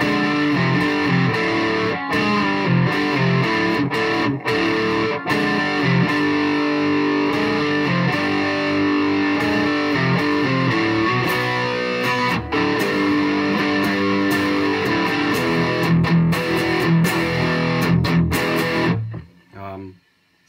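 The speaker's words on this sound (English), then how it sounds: "B is amp distortion, trigger one is activated, and loop five, which is the chorus" An electric guitar plays through a pedalboard with a Joyo PXL Pro looper, set to amp distortion with a chorus loop: a thick, saturated, sustained tone rings loud and continuously, then cuts off abruptly near the end.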